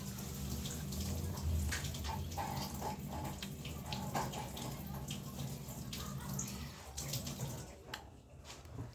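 Tap water runs steadily into a sink during dishwashing, a continuous broadband splashing hiss with faint clinks, fairly close and alone, easing off near the end.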